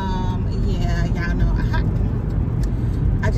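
Inside a moving car, a steady low rumble of road and engine noise runs throughout, with someone talking over it.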